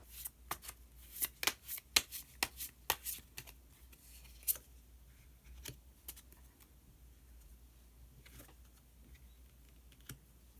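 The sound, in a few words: tarot cards being shuffled and drawn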